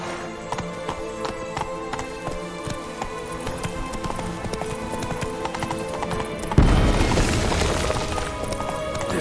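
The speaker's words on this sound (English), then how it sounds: "Run, Roach." Roach the horse gallops through The Witcher 3, hooves clattering in a quick, continuous rhythm over a constant game-world backdrop. The clatter grows louder and busier near the end, with a faint voice speaking briefly.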